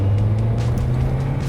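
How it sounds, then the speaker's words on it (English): A 2004 Honda Accord engine revving steadily as VTEC engages, a constant close droning hum with a strong low tone and no voices, heard from inside the car. "You can hear the VTEC kicking, baby."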